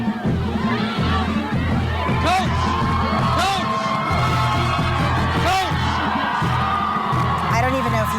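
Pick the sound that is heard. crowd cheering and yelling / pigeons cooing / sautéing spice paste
crowd cheering and yelling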